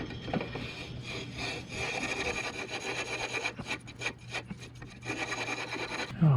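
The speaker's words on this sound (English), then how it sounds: "So lap this flywheel in." Steady abrasive rubbing as a flywheel is lapped onto a Kohler CH270 crankshaft with valve grinding compound, a continuous gritty grinding rasp with rhythmic back-and-forth strokes, close and moderately loud, no talking.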